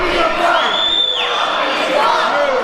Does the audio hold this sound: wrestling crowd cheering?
yes